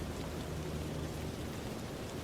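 Steady rain falling in Richmond, Virginia, a continuous broadband hiss that stays even and close throughout, with no other sounds over it.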